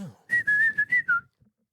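A person whistles a short tune of five or six quick, clear notes, close and fairly loud, ending abruptly into silence.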